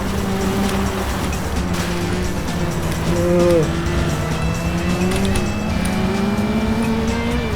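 A racing car in FlatOut drifts hard, its engine droning loudly while tires squeal in long, wavering tones, the pitch sliding up and down as the car slides through turns.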